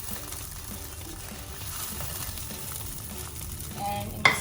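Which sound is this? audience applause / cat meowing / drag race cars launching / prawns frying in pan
prawns frying in pan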